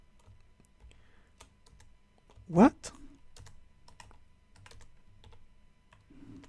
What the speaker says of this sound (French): C'est un clavier PC.